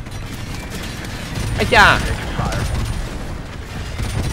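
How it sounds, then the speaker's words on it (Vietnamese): An automatic grenade launcher fires in Call of Duty 4 Remastered, a rapid burst of booming blasts over constant game background noise, with a man's brief exclamation in between. "trang bị súng phóng lựu mà bắn liên thanh luôn"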